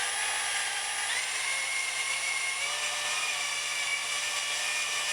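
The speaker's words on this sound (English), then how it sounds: "I just got it on the lowest speed, just a regular drill on the lowest speed" An ordinary drill turning at its lowest speed spins a Brownell's barrel lapping tool against an AR barrel interface, giving a steady high whine that runs unbroken and fairly near, with no voices.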